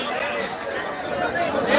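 Dense crowd chatter fills a packed wrestling event venue, many overlapping voices murmuring steadily and fairly loud throughout, with no single voice standing out.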